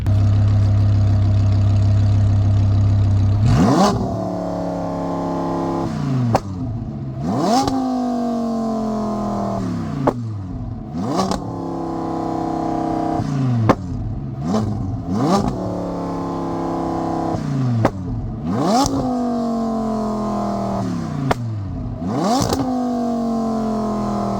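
Lamborghini Huracan with gutted catalytic converters and a flame tune, revving hard while driving: loud repeated rev climbs and drops through gear changes with sharp pops, close and alone.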